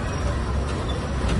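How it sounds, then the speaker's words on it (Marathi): Inside a bus on a Konkan road setting off, a steady low engine rumble and road noise fill the cabin, continuous and fairly loud with no clear voices. "गाडी तर निघाली पुढच्या प्रवासात"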